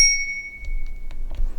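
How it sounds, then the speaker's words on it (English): A generic bicycle bell on a folding Brompton-clone bike gives one bright ring that fades out over about a second, followed by a few soft handling clicks and knocks. "A generic bell."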